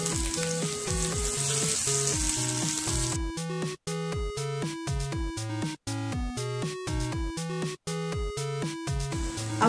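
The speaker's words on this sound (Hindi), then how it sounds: "गार्लिक भुनने के बाद अब हम इसमें ऐड कर देंगे अनियन" Onion added to roasted grated garlic and frying for chilli garlic hakka noodles, a close sizzle that is strongest at the start and then continues under loud background music.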